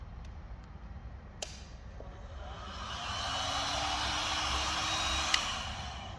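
Heat gun blowing hot air over trim while detailing a Porsche, a soft airy hiss that swells in and holds steadily near the microphone, with a few faint clicks along the way.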